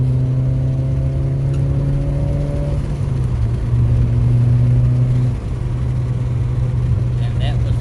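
A turbocharged Suzuki Swift ZC31S pulling hard on the road, its engine droning loud and steady with a rising then easing tone as it slows for a corner, while someone talks over it.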